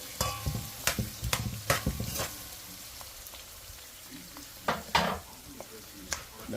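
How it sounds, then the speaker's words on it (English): Vegetables sautéing in a pan, with intermittent sharp stirring and scraping clatters over a low sizzle, loud bursts spaced irregularly then quieter stretches, no talking. "So saute the vegetable. While the vegetable is being sauteed"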